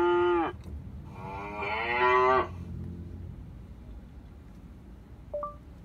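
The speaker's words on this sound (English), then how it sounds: "A cow sounds like this." A synthesized cow moo played through a Qualcomm and Panasonic Android 7.0 car infotainment system by Google Assistant: one short low call, then a longer rising moo, with quiet cabin background and a faint electronic blip near the end.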